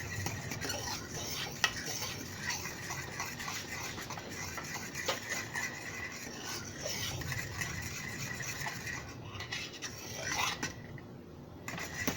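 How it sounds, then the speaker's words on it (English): Continuous scraping and rubbing of a utensil against the bottom of a pot of heating milk, with light metallic clinks, steady and close. "the reason I'm stirring is because, you know, you don't want to scorch the milk product"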